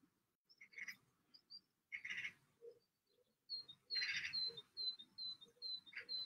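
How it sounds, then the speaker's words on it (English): Birds outside chirp and tweet faintly in short, scattered calls, some repeated in quick bright runs, with quiet pauses in between. "Can you hear the birds outside?"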